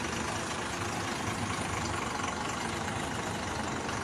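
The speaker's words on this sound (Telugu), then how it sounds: "ఐల్డింగ్లో 30 టన్నుల లోడ్ లాగుతుంది, చూసావా?" A 14-tyre lorry engine idles under a 30-ton load, a steady, broad diesel drone running evenly without a break.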